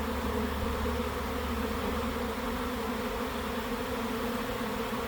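A dense, continuous buzzing hum of a large honey bee swarm in flight, steady and fairly close, with no other sounds.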